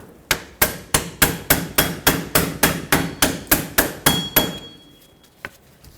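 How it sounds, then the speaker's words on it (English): A hammer strikes a pry bar about sixteen times in a quick, even rhythm to free a rusted parking brake part on a 2006-2010 Hyundai Sonata, each hit a sharp, loud metallic clank, followed by one last lighter tap. "using a pry bar and just hammering it back and forth. Hammer here, through that pry bar."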